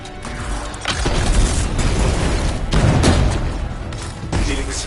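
Canisters explode in the video game Anthem: a heavy, rumbling blast with crackling bursts rolls on for several seconds, loud and dense, with layered game effects throughout.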